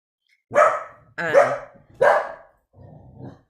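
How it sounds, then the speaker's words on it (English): A dog barks three times in quick succession, loud and close, followed by a quieter low growl-like grumble, with no talking over it. "Sorry, my dog's participating."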